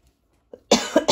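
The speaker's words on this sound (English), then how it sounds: "once you start coughing, it doesn't want to stop" A dry cough bursts out in close succession after a faint throat noise, loud and near with no talk, at a crafting desk during beaded dangle making.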